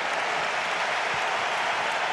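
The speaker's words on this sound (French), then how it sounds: "applaudi par le stade" Crowd at the Maracanã stadium applauding during the 2014 World Cup final between Germany and Argentina as Miroslav Klose is substituted off, a dense, steady roar of clapping that fills the whole stretch.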